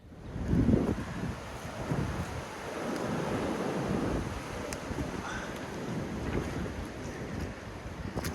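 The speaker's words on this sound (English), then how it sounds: "We're in the middle of the storm" Strong gusting storm wind at a UK pig farm buffets the microphone in rumbling surges, with a roaring, stormy wash of noise and no voices.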